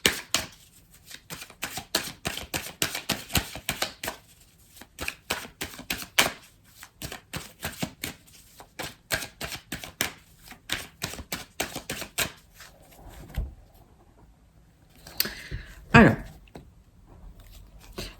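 Oracle cards being shuffled and drawn for a three-card reading, a long run of quick close crisp card slaps and flicks in bursts, ending with softer handling and a brief voice.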